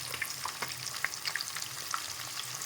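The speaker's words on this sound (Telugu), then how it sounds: "ఎర్రగా అయ్యేంత వరకు ఇలా అయ్యేంత వరకు వాటిని వేయించుకోవాలి" Pond fish frying in plenty of oil give a dense, continuous crackling sizzle with scattered sharp pops, close and steady throughout.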